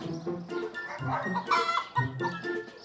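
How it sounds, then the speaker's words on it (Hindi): A chicken clucks repeatedly in short, agitated bursts, close and fairly loud, with no other sounds around it. "मुर्गी भागने लगी।"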